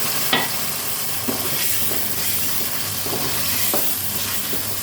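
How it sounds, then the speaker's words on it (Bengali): Goat meat frying in a pan with salt while being stirred, a steady loud sizzle broken by a few scraping stirs of the spatula, with no talking. "লবণ দিয়ে কষাতে নাড়াচাড়া করে নিলাম একটু"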